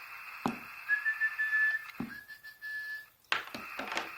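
A steady whistled tone sent through a Galaxy Pluto radio transceiver, holding a sustained pitch for a couple of seconds, broken by sharp clicks of keying with brief static gaps between transmissions.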